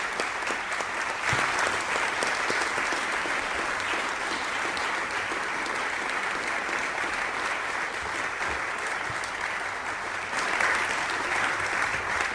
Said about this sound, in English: Let's give a round of applause to the candidates